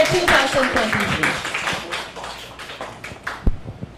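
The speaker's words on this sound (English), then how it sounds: "let's give a warm round of applause to our winner, Pusong Pinoy Award 2023" An audience at the Pusong Pinoy Awards 2023 ceremony claps for the award winner, a lively burst of applause that thins into scattered individual claps, with voices speaking over it.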